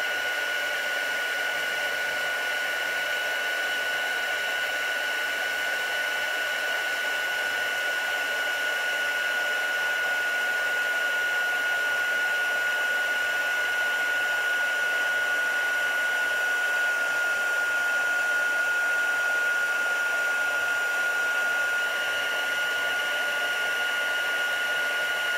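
A heat tool blows hot air over embossing paste on a craft project, a constant loud whirring hum with a steady whine that barely changes throughout.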